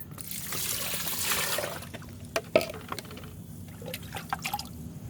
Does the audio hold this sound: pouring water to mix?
yes